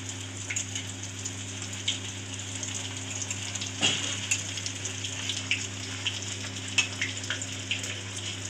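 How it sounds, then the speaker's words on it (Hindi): Paneer pieces fry in a wok over a high flame, giving a steady, quiet sizzle with scattered small pops and crackles all the way through, and no talk. "इसी तरह से फ्रेंड्स, हम सारे पीसेस को फ्राई कर लेंगे।"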